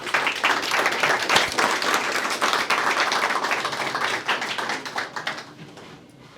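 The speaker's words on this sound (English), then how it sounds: "we give him a round of applause?" Event audience applause, a burst of many hands clapping with sharp individual claps standing out, fairly strong at first and then gradually tapering off toward the end.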